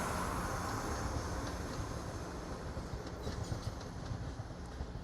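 Trains departing Derby station on the Midland Main Line, services bound for Birmingham New Street and London St Pancras, a steady loud rumble of engines and rolling wagons with broadband noise throughout, no talk.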